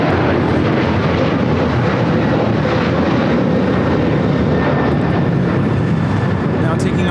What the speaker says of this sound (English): 1863 taking off to Phoenix on the 737-900ER.